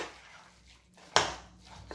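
A spoon scrapes and clinks against a bowl while stirring thick batter of grated squash and carrot for vegetable okoy, with a sharp knock near the middle and soft scraping around it, close and alone.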